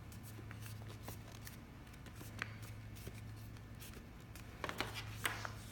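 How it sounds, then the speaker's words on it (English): Sharpie marker pressed along folded paper to sharpen a crease, a quiet steady rubbing and scraping with a few soft crisp paper rustles near the end. "I'm using my Sharpie to make that a nice crease."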